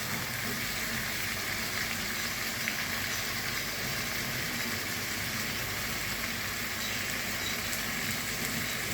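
Chicken meat cooks in a pan with a steady, even sizzle that hisses continuously at moderate loudness throughout, with no talking.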